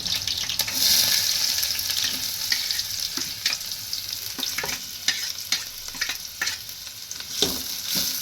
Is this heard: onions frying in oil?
yes